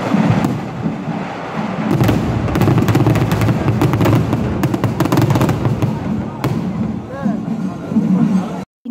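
Fireworks going off near a church at night, with a dense run of loud bangs, crackles and pops over crowd noise and nearby voices, continuing for several seconds before cutting off abruptly.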